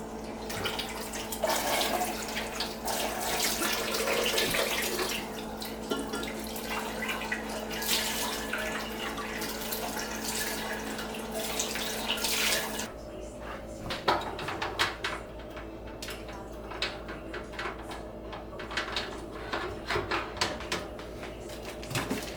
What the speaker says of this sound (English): Let's rinse off our crock pot.